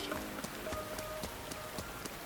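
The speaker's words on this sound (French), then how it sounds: "Oh, il pleut." Rain falls steadily in the video game Like a Dragon: Pirate Yakuza in Hawaii, a soft, even hiss with a regular patter of light footsteps on top and no speech.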